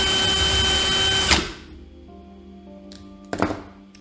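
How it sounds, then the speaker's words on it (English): A power drill spins for a little over a second to twist and straighten Clapton coil wire held taut with pliers, its loud whirring motor stopping abruptly, followed by quiet background and a brief clatter. "hold tight and run the drill for 2 to 3 seconds"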